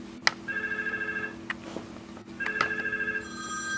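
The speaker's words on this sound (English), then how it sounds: "As you can now see, the office handset is ringing." An office VoIP desk handset rings with an incoming call on a business phone line, two electronic ring bursts separated by a short pause, clear and fairly close with no talking.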